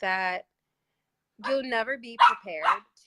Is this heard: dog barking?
yes